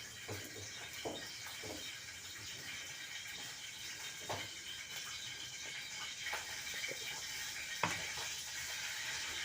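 A piece of cinnamon and four or five cardamom pods sizzle in hot oil, a faint, steady frying hiss broken by small stirring clicks and pops.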